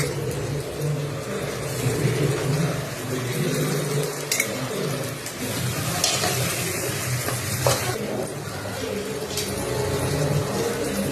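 Tomatoes frying in oil with masala for chicken biryani, producing a dense, steady sizzle close by, with occasional spatula scrapes and clinks against the pan.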